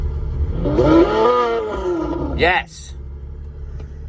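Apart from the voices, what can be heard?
simulated Pagani Zonda engine sound from RevHeadz app through car stereo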